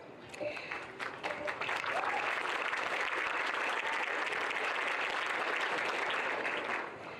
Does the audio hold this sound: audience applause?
yes